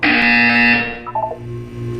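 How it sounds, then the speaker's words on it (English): A loud, harsh buzzer from the video game Portal 2 blares for under a second, then fades into softer tonal blips and a low hum, with no speech. "When you hear the buzzer, look down at the floor."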